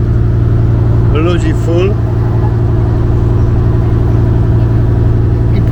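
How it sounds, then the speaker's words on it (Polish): Steady loud drone of a ferry boat's engine running while crossing to Koh Larn, a constant low rumble throughout with a person briefly talking over it. "siedzimy już na promie, taka maszyna"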